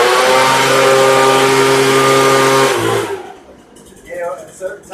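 A Poulan BVM 200VS leaf blower from 2010 with a starting fault roars loudly at throttle, a steady buzzing whine that cuts off abruptly after about three seconds, followed by quieter handling noises and faint voices.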